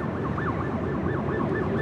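Wailing police sirens from a police pursuit near LAX sweep up and down continuously, several overlapping at a moderate distance, over a constant rumble of traffic.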